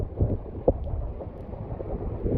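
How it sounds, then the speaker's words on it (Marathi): Strong wind gusting across a mountain pass at Naneghat, a steady loud rushing roar with low buffeting against the microphone, one sharp knock partway through and no talking. "वारं आहे प्रचंड वेगाने वारं आहे"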